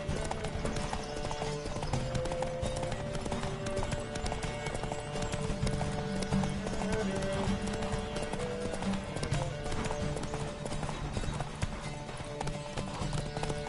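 In The Witcher 3: Wild Hunt, a horse race: rapid, continuous clip-clop of galloping horses racing together, loud and driving, with a steady music-like drone underneath and no clear talking.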